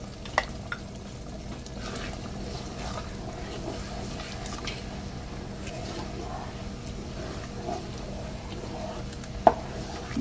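Jollof rice ingredients stirred as they fry in groundnut oil, with a low, steady sizzle throughout and faint scraping of the spoon, plus a couple of sharp clicks near the start and end.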